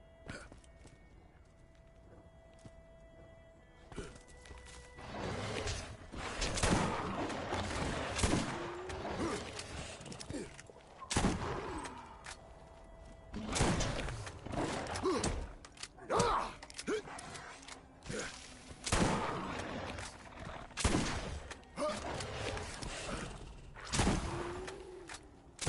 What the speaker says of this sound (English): Yeah, shotguns in this game are way fucking better than the second one